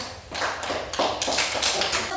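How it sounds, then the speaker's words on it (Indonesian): A classroom of students applauding a student group during a school lesson, a short burst of irregular, close-up claps with some shuffling and faint voices. "kita beri tepuk tangan untuk kelompok 2"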